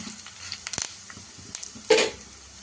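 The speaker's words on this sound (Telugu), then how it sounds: "ఇంకంతా సిమ్లో పెట్టుకొని ఒక మూడు నిమిషాలు అంతే ఫ్రై చేసుకోవాలి" Tempering seeds frying in oil on a low flame for bitter gourd karam, a faint, quiet sizzle with a couple of brief crackling pops and light clinks, no voices.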